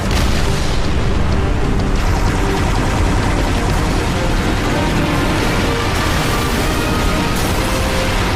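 A pylon detonation in a Halo game erupts as a loud, sustained roaring blast, dense and rumbling throughout with no voices over it.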